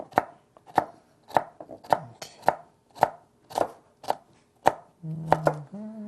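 Knife chopping food into small squares on a cutting board, about a dozen sharp, evenly spaced close knocks, ending with a couple of quick cuts and a brief hum, with no talking.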